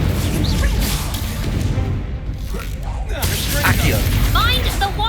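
Incendio fire spells in Hogwarts Legacy go off amid dense combat noise, with whooshing bursts and booms over a continuous loud background and a voice speaking over the action.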